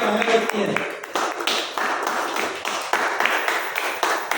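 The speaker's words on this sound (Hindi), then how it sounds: "मैं जोरदार तालियां चाहूंगा मिस्टर रोशन चंद्राकर जी के लिए" Colleagues at a company team meeting applaud a coworker with loud, continuous clapping that fills the room, mixed with voices talking over it.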